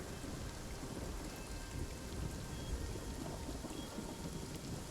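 Rain patters steadily with rolling thunder in the fantasy video game Mage of Nightingale, a constant dense wash of drops under low rumbles, with no voices.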